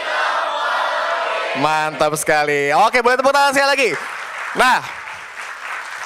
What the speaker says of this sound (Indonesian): Oke, boleh tepuk tangan sekali lagi.